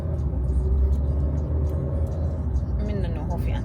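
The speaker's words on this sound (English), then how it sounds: "why are we in traffic?" Road traffic heard from inside a car, with a steady low engine and road rumble plus the whir of cars moving nearby, while people talk over it.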